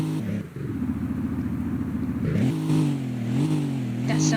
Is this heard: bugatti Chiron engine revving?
yes